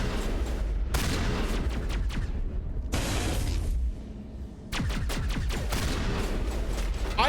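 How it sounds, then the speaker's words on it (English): A slug-firing shotgun in the sci-fi shooter Mass Effect 1, discharged in a rapid burst of loud, sharp blasts with clattering impacts, then a brief lull before another volley of shots. "I think this shotgun shoots slugs."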